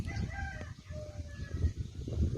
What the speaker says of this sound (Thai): ไก่ที่พ่อกับแม่เลี้ยงไว้นะคะ ไก่บ้าน